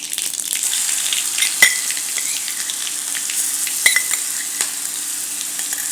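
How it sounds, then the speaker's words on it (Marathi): Coarse green chili paste sizzles steadily in hot oil with bloomed mustard seeds and cumin over low flame, a continuous crackling hiss with a couple of sharper pops, close and alone. "मोहरी चांगली फुलली की त्याच्यात थोडं जिरं घालायचं गॅस कमी करायचा आणि आपण जे ओल्या मिरचीचं वाटण करून घेतलं आहे असं जाडसर हे याच्यात घालायचं"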